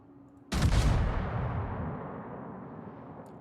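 Naval gun firing in the World of Warships game: one sudden heavy boom that rolls out into a long decaying rumble, alone and loud against a quiet background.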